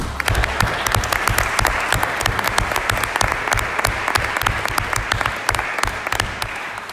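At a municipal council meeting, the room applauds the organizer of the June 24 national holiday festival. Brisk, crisp clapping from a modest group continues evenly for about seven seconds, with no talking.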